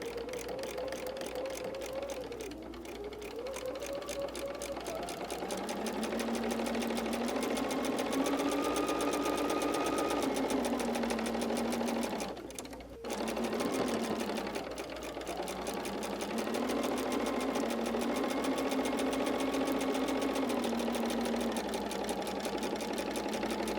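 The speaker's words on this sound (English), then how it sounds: "Okay, let's go sew." A sewing machine stitches quilting fabric with a steady, close whirring hum and rapid needle chatter that rises and falls in speed, broken by one brief pause midway.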